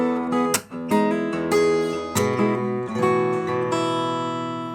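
Fingerpicked acoustic guitar: an open first string plucked with the middle finger among several clear plucked notes ringing over sustained chords, close and alone, with one sharp percussive attack near the middle.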